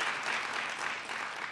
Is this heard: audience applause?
yes